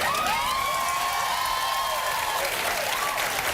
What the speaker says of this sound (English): That was a ploy for applause is what that was.